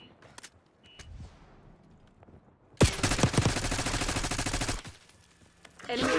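Sustained burst of automatic gunfire in Call of Duty: Black Ops 6, loud and dense for about two seconds after scattered quieter shots, with a brief voice before and renewed shooting at the end.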